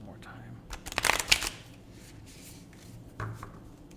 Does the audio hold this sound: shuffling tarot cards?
yes